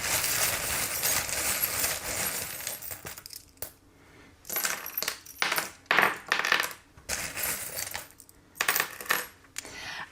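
Small metal divination charms tumble and clink together on a table during a tarot reading, a dense rattling spill at first, then several separate bright jingling drops and shakes, fairly close and with no voices.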